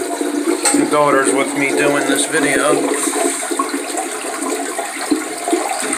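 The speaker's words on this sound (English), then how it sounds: "Alright, it's shut off, so now we're going to flush it." An old Crane toilet, with its water supply shut off, flushes loudly in a close burst of rushing and gurgling water that fades into trickling, while someone talks over it.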